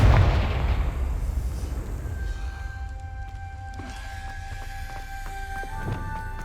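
Confringo spell explosion in the Hogwarts Legacy video game: a loud, deep boom opens, then rumbles and decays into lingering crackle and low ambient drone with faint chiming game sounds.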